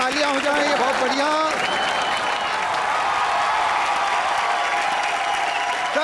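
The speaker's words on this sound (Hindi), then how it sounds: "जोरदार तालियां हो जाएं, ये बहुत बढ़िया।" Loud, sustained studio audience applause on an Indian live comedy show set, with cheering voices and a few tonal voice sounds mixed in during the first moments, holding steady throughout.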